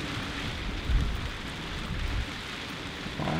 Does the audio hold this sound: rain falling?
yes